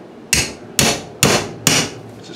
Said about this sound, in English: Now, say I'm using a new hammer.